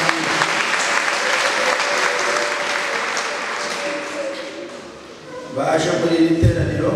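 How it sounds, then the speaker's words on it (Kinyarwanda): Applause from a church congregation, a dense sustained clapping that fills the room. It swells and dips slightly before a louder burst near the end, with voices mixed in. "Dukomere Imana amashyi"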